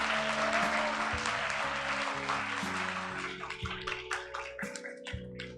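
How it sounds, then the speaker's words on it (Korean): A church congregation applauding during a Sunday service, a dense clapping wash that thins into scattered claps, with sustained organ or keyboard chords underneath. "여러분, 박수 한번 주세요."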